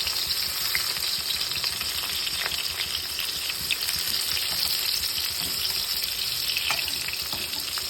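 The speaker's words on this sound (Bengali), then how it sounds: "পকোড়া ভাজা হয়ে গেছে, তেল একটু কমিয়ে নিলাম" Pakoras fry in oil with a steady sizzle and crackle, a dense hiss with scattered pops and no talking.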